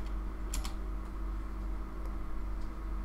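Soft, quick keystrokes on a computer keyboard, with a few sharper clicks early on, heard quietly against a steady low room hum.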